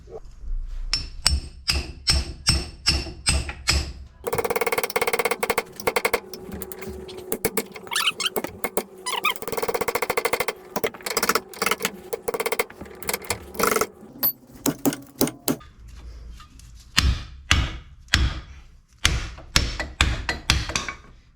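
Repeated hammer blows strike a 2005 Ford Focus ball joint to break it loose on a wobbly suspension, sharp metallic impacts coming in irregular bursts with a dense stretch of clanging in the middle, loud and close.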